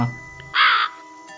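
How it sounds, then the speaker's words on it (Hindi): A cartoon crow gives a single loud, harsh caw lasting about a third of a second, clear and close, following a low tonal sound and surrounded by faint jingly background music. "उसी दिन कालू कौवे को टुनटुनी चिड़िया अपने घोंसले की ओर जाती दिखाई देती है"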